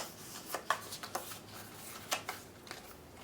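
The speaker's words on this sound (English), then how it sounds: "So we will shuffle the rest." A deck of cards riffled and shuffled by hand during a tabletop card game, a run of soft papery bursts and snaps, close and quiet, with no one talking.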